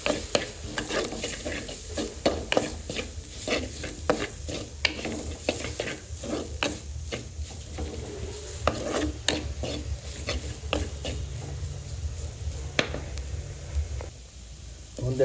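Onions with spice powder fry and are stirred in a pan, a dense sizzle broken by rapid, repeated scraping strokes, close and continuous with no talk.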